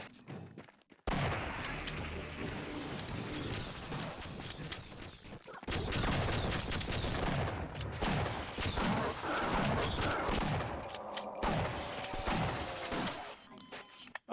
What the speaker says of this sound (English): Let's try the shotgun out.